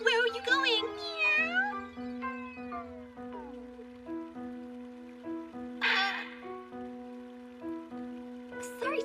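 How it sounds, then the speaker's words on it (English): Cat meowing in an anime scene, a drawn-out high meow at the start followed by further tonal vocal sounds over a steady background hum, moderately loud and close. "That naughty kitty."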